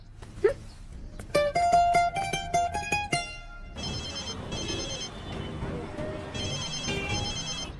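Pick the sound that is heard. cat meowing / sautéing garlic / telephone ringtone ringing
telephone ringtone ringing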